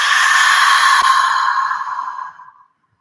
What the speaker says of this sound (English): let's take 3 full rounds of open mouth exhales